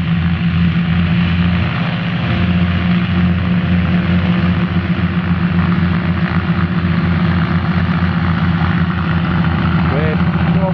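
A propeller aircraft runs its engine near the field during after-show departures at EAA AirVenture Oshkosh 2015. It gives a loud, steady, throbbing drone that holds throughout, with a rising whine near the end.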